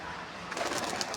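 A Kalanka pigeon gives a soft, faint coo or two against quiet background noise.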